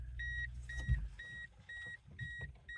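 A 1994 Ford Escort sounds a series of short, steady electronic beeps at key-on, repeating in an even rhythm over a low idle-like rumble inside the car.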